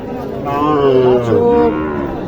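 A Sahiwal calf at a cattle market lets out one loud, drawn-out moo close by, its pitch rising and wavering before it fades.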